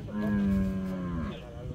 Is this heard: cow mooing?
yes